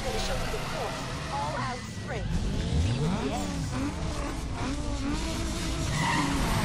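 A Nissan 350Z races with a revving engine and repeated tire squeals and skids in the street-racing video game Need for Speed Underground 2, loud and continuous, with a voice talking over it.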